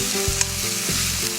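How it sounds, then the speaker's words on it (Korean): Meat and vegetables stir-frying together over fairly high heat for rice noodles, a steady loud sizzle with brief clinks of a utensil stirring through the pan. "고기에다가 바로 채소를 같이 넣어서 지금 볶아주고요."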